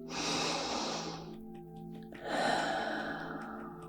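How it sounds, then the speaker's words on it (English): A slow, deep breath drawn in and let out during a soft-spoken Reiki healing session, close and gentle, with a quiet pause before a second audible exhale. "Deep breath."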